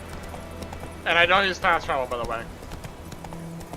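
Roach, the horse in The Witcher 3, trots with steady clip-clopping hooves that run low beneath someone talking throughout.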